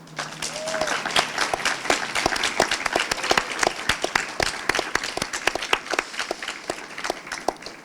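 An audience applauds a guest speaker at a Spanish-language talk, dense hand clapping that builds and holds steadily, with a voice heard briefly near the start.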